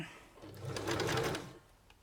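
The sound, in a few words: sewing machine stitching fabric ruffles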